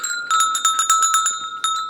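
Small decorative Christmas bells jingling in a quick, irregular series of bright metallic rings, close and fairly loud, with no talking.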